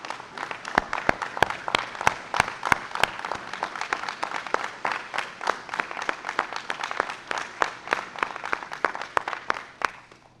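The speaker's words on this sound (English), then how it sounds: "let's give a round of applause to those board members right here sitting with us today" An outdoor crowd at an airport runway celebration claps for the board members in a round of applause, with distinct sharp nearby claps over a steady wash of hands, lasting about ten seconds before tapering off.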